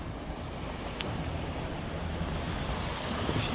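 A boat cruising steadily at sea between Rockland and Port Clyde, with continuous broadband wash of water and wind buffeting the microphone, a low engine rumble underneath, and no talking.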